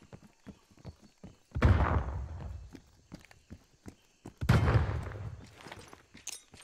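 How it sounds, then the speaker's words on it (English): Stun grenade blasts in Call of Duty Black Ops Cold War team deathmatch, two loud booming detonations a few seconds apart, each with a rumbling tail, amid light clicks and footsteps. "Stun grenade out."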